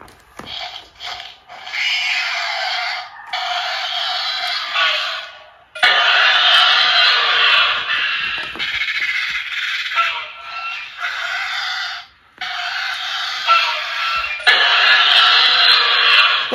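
Mattel Jurassic World Sound Strike Pteranodon toy from 2021 giving off a run of loud, harsh electronic screeches and squawks, in long bursts with short gaps, played back close up with no talking.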